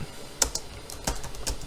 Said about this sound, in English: We can type whatever we want in here.